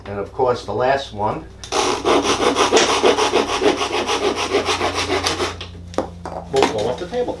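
A pull saw cuts through a wooden dowel held against a stop on a board, with rapid, steady rasping strokes that run for several seconds between bits of nearby talk.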